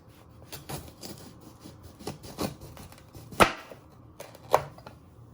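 A knife taps and chops a pepper on a wooden board in irregular strokes, with two sharper, louder cuts standing out; close and otherwise quiet.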